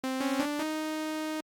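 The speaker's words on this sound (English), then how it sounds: "I've actually grabbed my favorite synth lately, which is the Juno 6." A Juno 6 synth on its default preset sounds one sustained, buzzy, harmonically rich note for about a second and a half, with a slight wobble early on before stopping abruptly.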